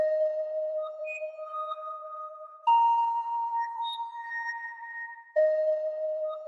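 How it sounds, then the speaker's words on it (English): A bell one-shot sample named Palm plays a basic melody in FL Studio, clean sustained tones stepping through three phrases with a sharp attack at each change, alone and fairly loud. "So I went with the bell called Poem."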